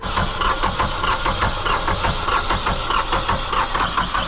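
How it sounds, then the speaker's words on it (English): A marine engine cranks over repeatedly on its starter with the salt water shut off, giving a steady rhythmic churning that runs loud and close for the whole stretch with no voice over it. "if you're turning a marine engine over multiple times"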